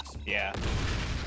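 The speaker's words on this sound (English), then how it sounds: "little stock explosion effect" A stock explosion sound effect in the game Danganronpa V3 bursts into a loud, broad rumbling boom that lingers, following a short bright cartoonish tone, with a brief voice at the start.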